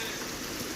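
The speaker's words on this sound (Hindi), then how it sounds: "कितनी तेज़ बारिश हो रही है" Heavy rain pours in Jammu as a brief, dense, continuous hiss with no gaps, fairly faint and steady throughout.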